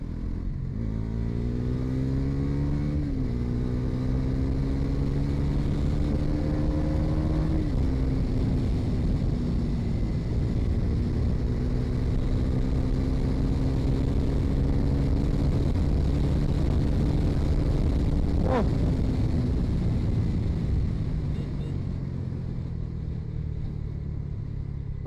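A Bajaj Pulsar NS400Z motorcycle accelerating hard through several gear changes, its engine note climbing then dropping at each shift before holding a steady high-speed drone with wind rumble, close and loud throughout.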